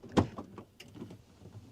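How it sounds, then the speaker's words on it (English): A van door is opened from inside during a night of camping, giving one sharp latch click followed by faint rattling and sliding movement that dies away within about a second. "I'm opening the door."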